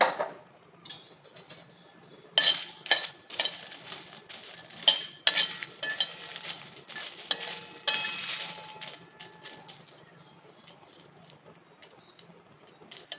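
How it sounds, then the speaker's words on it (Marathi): Dry red chillies roasting in a pan with a spoonful of oil, a soft crackle under repeated clinks and scrapes of a spoon stirring them, close and without talk. "सुक्या मिरच्या आपण भाजून घ्यायच्या आहे इथे आपण एक चमचा याला तेल घालून भाजून घ्यायचं आहे"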